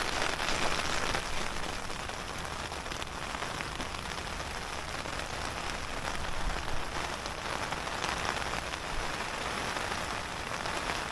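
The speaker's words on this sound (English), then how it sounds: "Her indoors reckons that's sleet." Sleet pelting the roof and walls of a caravan, a steady dense hiss of tiny impacts that holds at an even, close level for the whole stretch with no voices.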